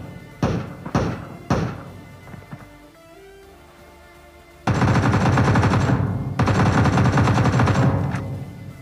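Gunfire in the mobile battle royale game BGMI, a few sharp isolated shots followed by long rapid automatic bursts, loud and close, with brief game sounds between.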